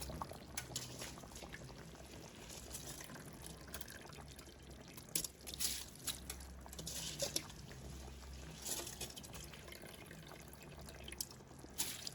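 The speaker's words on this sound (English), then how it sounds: "I'm going to add our rice." Rice poured into a bubbling pot of seasoned rice with meat for a Jamaican one-pot meal, giving a steady, continuous pouring patter over the simmer with a few brief louder splashes.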